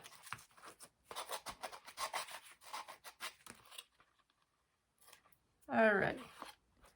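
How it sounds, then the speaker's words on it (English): Sandpaper rubbed along the edge of a handmade holiday gift box gives one loud, close scraping burst of about a second, after a stretch of talk and rustling and a short pause. "Sandpaper."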